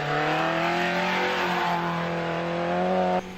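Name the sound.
rally cars racing past the camera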